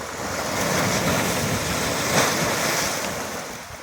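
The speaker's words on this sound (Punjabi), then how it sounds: "ਪਾਣੀ ਜਿਹੜਾ ਪੂਰਾ ਮਿੱਟੀ ਨਾਲ ਘੁਲ ਕੇ ਪਾਣੀ ਚੱਲ ਰਿਹਾ ਇਸ ਟਾਈਮ" The muddy, swollen Sutlej river surges past eroding banks as a loud, steady, close-up rushing roar that swells briefly near the middle, with no voices.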